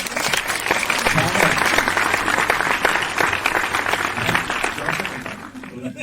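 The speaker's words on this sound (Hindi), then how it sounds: "तो एक बार जोरदार तालियां हो जाए।" A dense burst of audience applause at a Hindi poetry gathering (kavi sammelan), many hands clapping together loudly and continuously before tapering slightly at the end.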